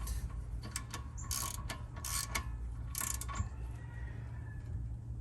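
A ratchet or gear wrench tightens rear wheel bearing bolts on a 2014 Kia Soul, with bursts of quick metallic clicking in short strokes over a steady low hum.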